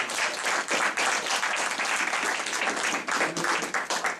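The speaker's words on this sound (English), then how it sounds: "we should give Mr. Hanna a round of applause for his comments" A room audience claps for a speaker's comments at a campaign talk, a brief, steady, fairly close round of applause.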